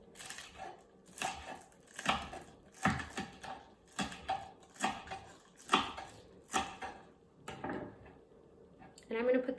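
Knife chopping spring onions on a board for rainbow spring rolls, a run of short irregular taps close by with a brief rustle at the end, no speech over it.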